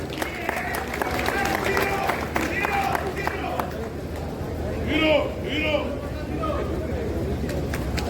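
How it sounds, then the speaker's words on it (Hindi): Applause and cheering from an audience at an annual general body meeting, a steady wash of clapping and crowd noise lasting throughout, with scattered voices and chatter mixed in. "एक दफा इन सबके लिए भरपूर ताली 16 नौजवानों के लिए"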